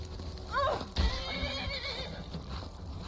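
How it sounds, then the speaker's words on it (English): Horse in the video game Skyrim giving a short, rising-and-falling whinny near the start, followed by a heavy thump and hoof clops against quiet game ambience. "Thanks, horsey."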